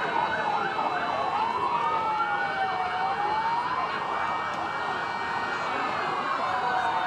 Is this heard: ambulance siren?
yes